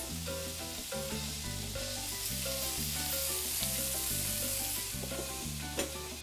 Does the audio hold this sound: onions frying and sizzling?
yes